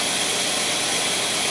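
Ford engine fitted with an AFB Carter 600 carburetor running with no load, a loud, steady broadband roar close to the microphone with no talk.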